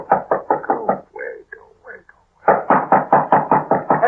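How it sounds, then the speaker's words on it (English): Knocking on a door in a 1949 radio drama, a loud rapid series of knocks, a brief pause with a voice, then another insistent burst of knocks. "Just gonna let him knock."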